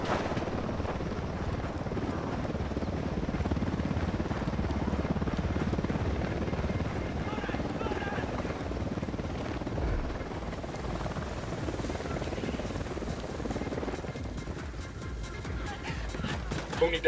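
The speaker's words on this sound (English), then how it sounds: "Hit the dirt. Helicopter." A helicopter in a combat scene roars steadily and loudly throughout, its thudding rotor wash forming a dense continuous rumble with faint voices underneath.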